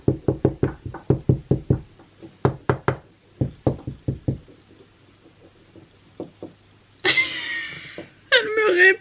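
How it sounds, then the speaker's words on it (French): A person knocks a rhythmic series of sharp raps, and martens knock back in similar bursts, followed by high squealing cries from the animals near the end. "Je fais toc toc, elles font toc toc."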